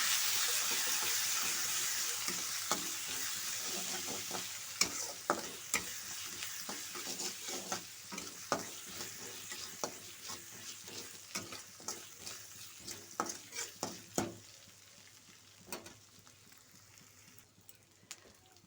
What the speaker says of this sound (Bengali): হলুদ দিয়ে নাড়াচাড়া করবো